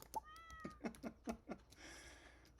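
A cat meows in the Stardew Valley video game, several short mewing calls in quick succession, fairly near and clear, followed by a soft rustling game sound.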